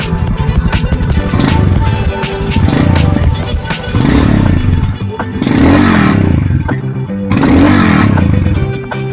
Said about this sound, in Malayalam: ഇതിന്റെ എക്സോസ്റ്റ് നോട്ട് ഒന്ന് കേട്ടു നോക്കാം.